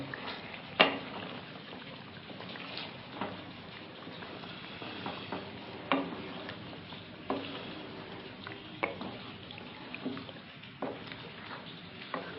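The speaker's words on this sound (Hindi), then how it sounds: "दही का पानी खुश्क होने तक इसको हम पकाएंगे।" Chicken korma with yogurt, water and lemon juice simmers and sizzles steadily in a pot, with faint clicks of stirring on top.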